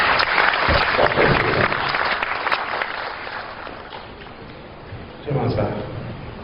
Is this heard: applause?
yes